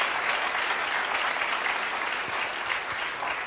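A church congregation applauds at an evening worship service, a dense, steady roar of many hands clapping close and loud throughout, with a few cheers mixed in.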